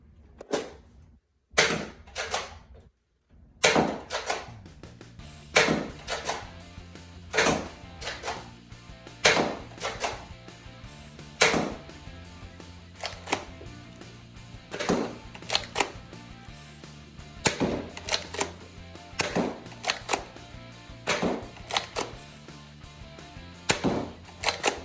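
A Dart Zone Pro Mk 2.1 foam dart blaster fires repeatedly, sharp snapping shots at fairly regular intervals of about a second with mechanical clicks between them, close and alone with no talking.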